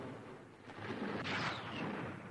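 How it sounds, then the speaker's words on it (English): A Japanese bomb hits a ship's afterdeck in 1942: a muffled explosion swells into a deep rolling boom with a rushing blast of noise, then fades into a lingering rumble. "Suddenly, an explosion on the afterdeck."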